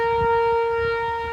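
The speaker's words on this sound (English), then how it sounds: "we got the firehouse going off once again. But this time it's for a test." A firehouse siren sounding during a scheduled test, a loud steady wailing tone held throughout with strong harmonics and a low rumble of background noise beneath it.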